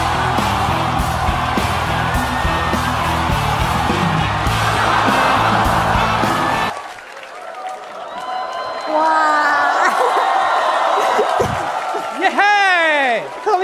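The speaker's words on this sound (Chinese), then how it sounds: "我们掌声欢迎神秘嘉宾超派鸡排超哥" A studio audience at a live show applauds, whoops and cheers to welcome a guest: a dense, loud wall of crowd noise that cuts off abruptly partway through, followed by scattered voices.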